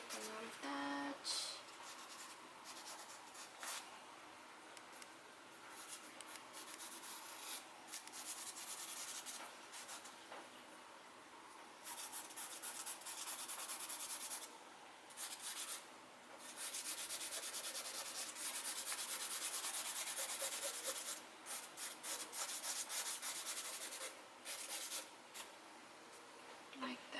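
Charcoal on paper being rubbed and shaded while refining shapes on a drawing of a black jacket, a close, continuous dry scratching and scuffing in bursts with brief pauses, light speech faintly in places.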